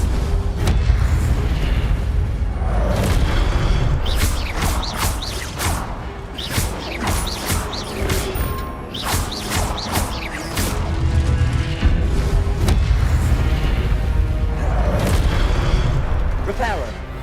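Repeated Incendio fire spells cast in the Hogwarts Legacy video game: loud, booming fiery bursts that follow one another in quick succession over a dense, continuous game soundscape, with voices present throughout.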